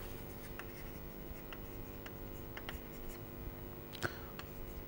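A marker or chalk writes an equation on a board in a quiet room, giving soft, intermittent strokes and taps with one sharper tap near the end, with no talk.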